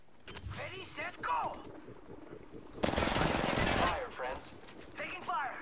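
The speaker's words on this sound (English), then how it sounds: "Taking fire!" Bursts of rapid gunfire from the Apex Legends video game, with a dense sustained volley in the middle, mixed with game sounds and close voices talking.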